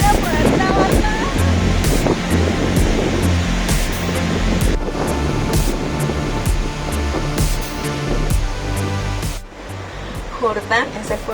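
Loud, continuous rushing of the Chicamocha river in Colombia, with heavy wind buffeting the microphone and speech blending into the roar, until the noise drops off near the end.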